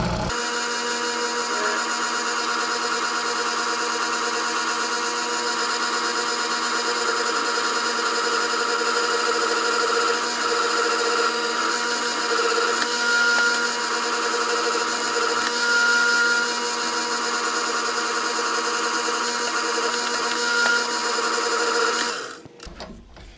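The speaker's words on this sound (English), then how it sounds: "Now we'll put the proper size in it for the tap and go ahead and drill it." A steady, high whine from a drill boring a pilot hole for tapping in a DIY catfishing rod rack build runs unbroken for over twenty seconds, close and fairly loud, then cuts off abruptly.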